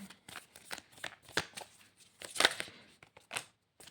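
Tarot cards being shuffled by hand, a series of soft, quick riffling and flicking bursts in an uneven rhythm, close and fairly quiet with no talk.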